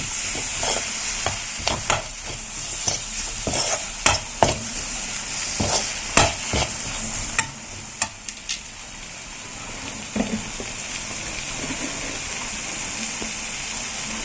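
Tomatoes sautéed in a pan for bread kothu, a steady hiss of frying under repeated sharp clacks of a spatula striking the pan, the strokes coming irregularly then thinning out toward the end.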